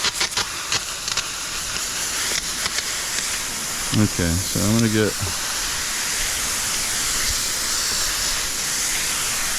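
A garden hose sprays high-pressure water over a Jandy pool filter during cleaning, a loud, steady hiss running close by throughout, with someone talking briefly partway through.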